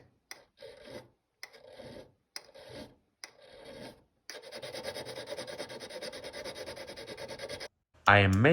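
Repeated short rasping strokes of a metal file removing excess solder from a gold ring, then a longer stretch of steady rapid filing, ending with a loud sharp clatter.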